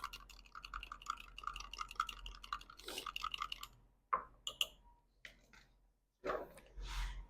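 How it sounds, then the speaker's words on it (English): A small wire whisk beats a mixture in a bowl in a home kitchen, giving a rapid, close run of fine clicking taps for about four seconds, then a few scattered scrapes and knocks. "have a little whisk that I use to whisk it up."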